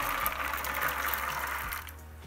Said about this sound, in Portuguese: eu coloquei uma quantidade de água aí, ó, para ferver. Vou estar colocando a minha jurubeba lá dentro.